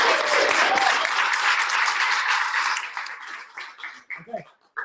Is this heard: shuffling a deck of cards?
no